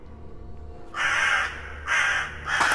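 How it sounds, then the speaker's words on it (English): Crows cawing in the horror video game Bad Dream: Coma, three harsh loud caws spaced about a second apart over a low ambient hum. "your crows are going nuts"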